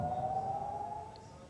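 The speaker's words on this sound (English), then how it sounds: "Sirens were activated in several regions, including Galilee, Haifa Bay and Carmel." Air raid warning sirens wail across northern Israel, with a single sustained tone gliding slightly downward. The sound is steady and moderately distant, with no voices.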